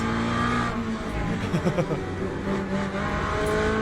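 Corvette GT3 race car in Le Mans Ultimate, a loud continuous engine roar with shifting pitch and a short burst of tire scrub midway, close and without talk.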